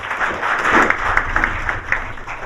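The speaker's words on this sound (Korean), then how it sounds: "큰 박수로 환영해 주시기 바랍니다." A crowd at a Korean forum on the Kaesong Industrial Complex welcomes the pastor who will lead the debate with a short, steady burst of clapping, a few sharper claps poking through the even wash.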